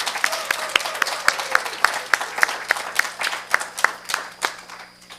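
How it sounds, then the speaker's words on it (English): A church congregation applauds the Pastoral Care Committee with a burst of clapping from many hands, lively and close at first, then thinning out and fading toward the end. "Can we just give a round of applause to our Pastoral Care Committee?"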